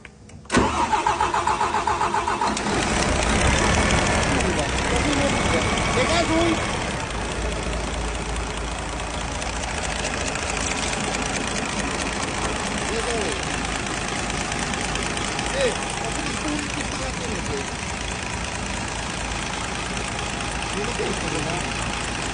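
A DAF XF 480 truck engine cranks and fires after a brief quiet start, then settles into a steady, loud diesel idle that runs for the rest of the clip.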